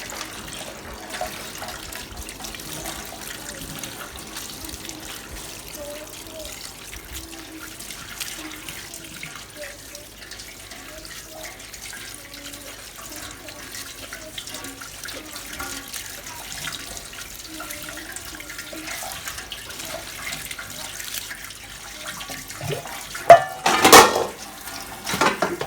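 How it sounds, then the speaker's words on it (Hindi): Cold tap water runs over boiled noodles in a colander for a long, steady stretch, a soft, continuous splashing stream at moderate distance, ending with a brief louder clatter of handling. "और इसके ऊपर ठंडा पानी डाल देंगे।"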